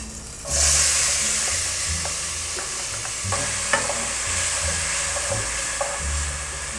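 A sofrito with achiote fries in a pan, giving a continuous loud sizzle and hiss that swells sharply in the first second and carries on with scattered pops and crackles.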